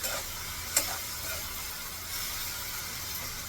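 Food cooks on a low gas flame in a pan for a kadhi with spring onions, giving a soft, steady, faint sizzle with one brief click partway through.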